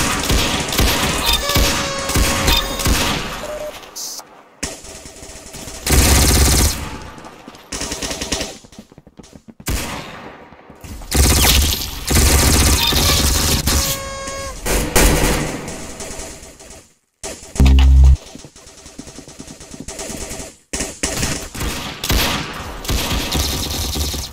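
Rapid bursts of automatic and single gunfire in the Roblox game Arsenal come loud and dense in clusters broken by short silences, with occasional thumps and no talk.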